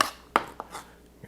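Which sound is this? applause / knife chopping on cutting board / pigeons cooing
knife chopping on cutting board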